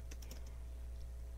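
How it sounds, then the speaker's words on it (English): Quick keystrokes on a computer keyboard, a brief burst of soft clicks early on, then near quiet with one faint tap. "I hate typing this."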